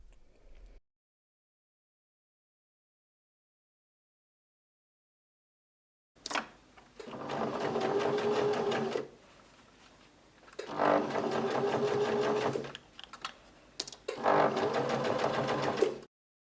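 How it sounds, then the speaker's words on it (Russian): A sewing machine stitches denim pieces for a handmade panama hat. It runs in three steady, close bursts of rapid mechanical whirring after a long silence, with short pauses between runs. "Соединяем и сшиваем детали."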